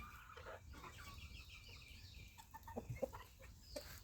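Garden chickens cluck softly in a few scattered bursts, faint and a little distant, with quiet outdoor background between calls.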